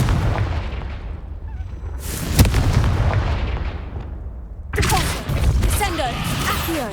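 Booming spell explosions from the Confringo charm in the video game Hogwarts Legacy: a sharp blast near the start, rumbling decay, then a second heavy burst followed by crackling debris.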